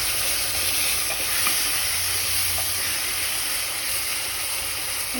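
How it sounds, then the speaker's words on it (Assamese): Chopped tomatoes frying in a pan with ginger and garlic for masoor dal, a steady dense sizzle with faint scraping from stirring, close and continuous, no talking. "এনেতে মই কুটি লোৱা বিলাহীখিনি পেলাই দিছোঁ।"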